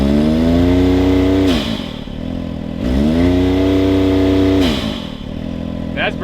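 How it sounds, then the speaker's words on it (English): A Can-Am engine with aftermarket mods is power braked near 4,000 RPM, giving a loud, steady droning rev that twice falls away with a sharp blow-off valve whoosh, then builds again. "when we go and power brake it and listen to this blow-off valve"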